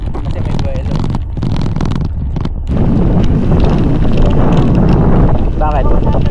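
Strong wind buffets the microphone of a cyclist riding a long loop around Laguna Lake, a steady roaring rush that grows heavier midway through, with faint voices beneath.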